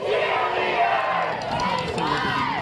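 Football crowd at an away college game chanting loudly and continuously, a dense mass of voices in a sustained rhythmic shout filling the stands.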